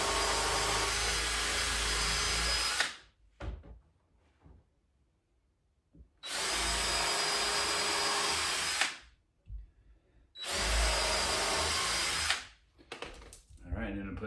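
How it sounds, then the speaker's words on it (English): A power driver sinks screws into wooden raised garden bed boards in three long, loud whirring bursts, each a few seconds long, with brief quiet handling gaps between them. "then I'm putting the screws in"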